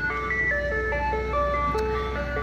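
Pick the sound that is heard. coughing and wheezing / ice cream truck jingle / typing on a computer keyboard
ice cream truck jingle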